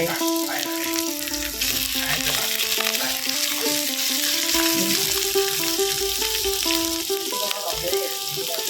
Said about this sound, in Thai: ใส่วัตถุดิบของเราไปแล้วค่ะ แล้วก็จะผัดให้สุกก่อนเนาะ